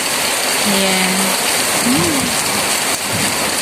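Heavy, terrible rain pours down steadily at a place called the Wonderland, a loud, dense, continuous hiss of drops close by, with a few faint tonal sounds drifting underneath.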